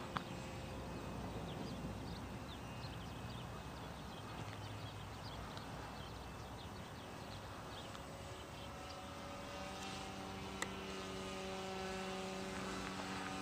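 Peace Drone motors hum at half throttle in flight, a steady, even propeller drone with tonal whine that holds constant throughout, no voices over it.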